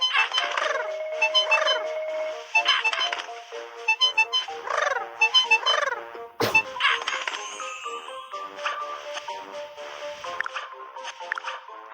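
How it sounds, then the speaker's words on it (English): Birds in the children's game Panda Fire Rescue: repeated chirpy, cartoonish tweets and rising whistles in quick bursts, joined by a sudden sharp effect midway and bright, busy game sounds after it. "There are birds."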